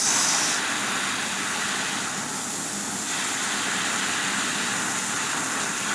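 Copper is heated toward red heat with a torch for soldering, giving a constant, loud broadband hiss and sizzle with a steady roar underneath, unbroken and without talking.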